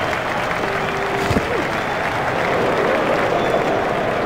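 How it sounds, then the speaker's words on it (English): A cricket crowd in EA Sports Cricket 08 claps and cheers after a shot in an India versus England match, a loud, sustained wash of applause with some whistles over the crowd murmur. "Crowd really enjoyed that shot"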